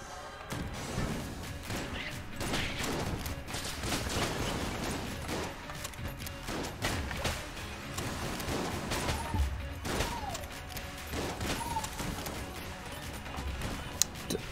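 Rapid gunfire from Enter the Gungeon runs continuously, with dense overlapping shots, mechanical clacks and crashing impacts, and occasional talk over the top.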